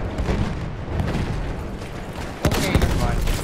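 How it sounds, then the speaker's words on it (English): Battlefield 1 multiplayer gunfire rattles in dense bursts over a rumbling battlefield backdrop, with a sharper, louder crack of shots near the end and no voices. "Gunshots go past me."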